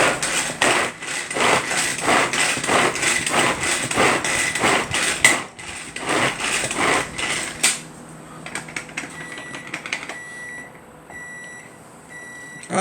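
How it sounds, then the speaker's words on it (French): A knife chops food on a cutting board in rapid, regular close knocks for several seconds, then stops, leaving a few faint beeps and kitchen sounds. "Allez, on va venir hacher."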